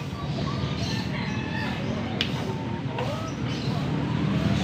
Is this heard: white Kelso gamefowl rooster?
yes